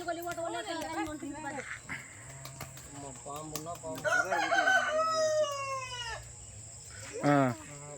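Chickens cluck and a rooster crows nearby, with people talking over the birds and a steady background hum.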